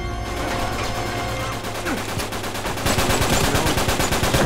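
Rapid automatic gunfire from an Uncharted 3 multiplayer match rattles in a dense, steady stream, loud and close, growing heavier toward the end.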